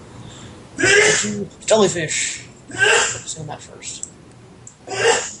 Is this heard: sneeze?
yes